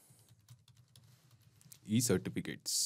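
Light, faint keystrokes tap on a computer keyboard as a folder name is typed in Google Drive, followed by a person speaking up close over the last second.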